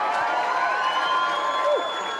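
A crowd cheers and applauds steadily for the outright winners of the 2017 Hi-Tec Oils Bathurst 6-Hour motor race, a dense continuous roar with scattered shouts.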